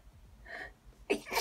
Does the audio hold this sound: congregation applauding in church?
no